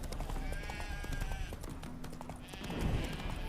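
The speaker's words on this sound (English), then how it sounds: "Spooking my horse." Horse hooves clip-clopping on a path in The Witcher 3: Hearts of Stone, a steady walking rhythm of soft thuds over a busy ambient background.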